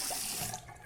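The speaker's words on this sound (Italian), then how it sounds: "Mi sciacquo il viso e torno da voi." Tap water runs steadily into a sink while a face is rinsed after shaving, a soft, continuous hiss and splash heard briefly and close by.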